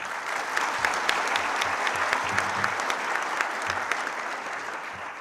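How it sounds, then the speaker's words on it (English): An audience at a forum applauds, with steady, moderately loud clapping from a sizable crowd that holds evenly throughout, its individual claps audible as crisp spikes within the wash. "once more, a big round of applause for them."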